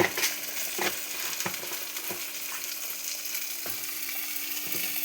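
Pea curry (vatani palle) stirred in a pan, with a steady sizzle under sharp, irregular scraping strokes of the spoon against the metal, close up and with no voices.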